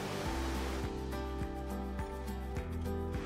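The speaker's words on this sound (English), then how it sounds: "Look at that river. It is flowing." A creek flows beneath a suspension bridge along British Columbia's Sea to Sky Highway, a faint, steady rushing of water with soft rhythmic thumps underneath.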